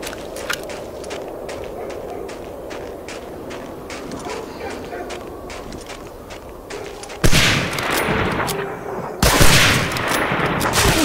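Gunfire in the World War II shooter Medal of Honor: Allied Assault: a rapid string of sharp shots crackles steadily, then two much louder, heavier bursts of firing break out near the end.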